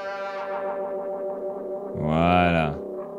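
Electric guitar through delay, modulation and distortion pedals: repeating delayed notes with wobbling modulation, then a swelling distorted, echoing burst that warps in pitch.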